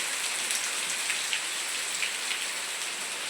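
Heavy rain hammers steadily on metal roof sheets, a dense continuous patter with no voices.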